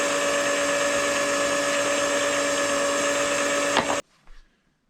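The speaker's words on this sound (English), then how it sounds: "Step 7 is deburring the case mouths." A powered case-prep tool whirs steadily while deburring 6.5 PRC rifle case mouths, a constant close motor whine with grinding that cuts off abruptly near the end, followed by a brief soft handling clatter.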